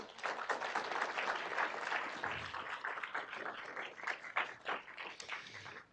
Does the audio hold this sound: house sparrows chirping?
no